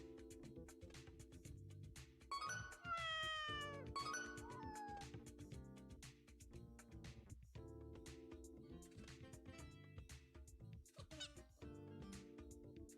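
In the video game Hidden Cats in Istanbul, a cat gives several clear meows over a steady looping game soundtrack, the meows rising above the music in short bursts.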